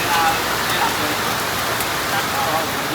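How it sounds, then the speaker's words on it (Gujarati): Heavy rain pours down steadily as a dense, even hiss close by, with no voices or other clear sounds breaking through. "જોરદાર વરસાદ પડી રહ્યો છે."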